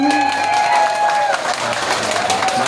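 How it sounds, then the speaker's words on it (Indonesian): Brief burst of clapping from a village crowd of women at a local campaign visit by a deputy regent in Karawang, fairly loud and close, with some tonal background sound and voices mixed in. "tepuk tangan dulu buat semua"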